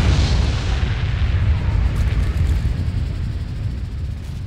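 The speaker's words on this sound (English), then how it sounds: "Why did I hear a nuclear bomb?" A nuclear bomb explosion in Spore, a loud deep rumbling boom that rolls on and slowly fades over several seconds.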